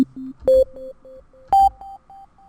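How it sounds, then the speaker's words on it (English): A simple sine wave synth lead from the Fury synth, with stereo delay: two bright plucked notes, each followed by a chain of fading delay repeats bouncing in a steady rhythm, heard alone with no talking. "it's just a simple sine wave"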